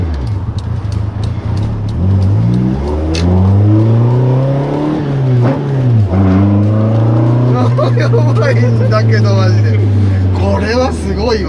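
A Toyota AE86 Trueno with individual throttle bodies and high-lift cams revs loudly and close by, its raspy engine note climbing and falling repeatedly like a motorbike, while people talk over it.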